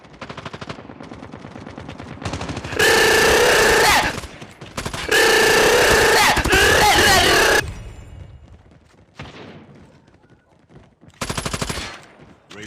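Gun sound effects: long, loud bursts of rapid machine-gun fire broken by short pauses and scattered single shots, with a little speech in between.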